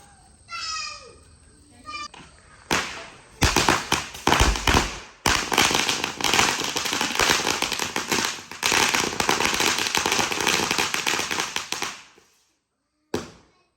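After a brief high squeak, a string of small stick firecrackers bursts into rapid, dense crackling pops for several seconds, then stops, followed by one last sharp snap.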